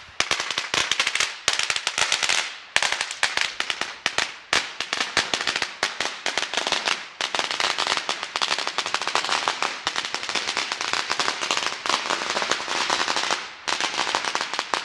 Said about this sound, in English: As you can see, lots of firecrackers in the celebration.